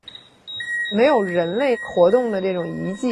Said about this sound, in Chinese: 如果不是有报警器在一直传来那种报警的声音